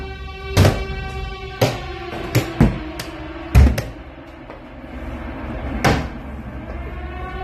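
A door being struck and banged by hand at a Silent Hill themed event, a handful of loud, irregular thuds with ringing rattle, spaced a second or two apart, nearly alone with faint background noise.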